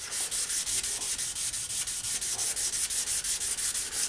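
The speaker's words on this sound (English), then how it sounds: "the guide code is starting to disappear because we're sanding through it" Rapid, regular back-and-forth sanding strokes rasp through a guide coat, a steady hissing scrape repeating about four times per second, close and loud.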